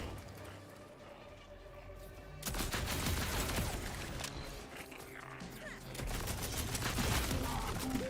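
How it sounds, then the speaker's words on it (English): A shotgun fires in the video game Borderlands 4, two quiet bursts of blasts that come in clusters against faint background game sound. "That's a shotgun."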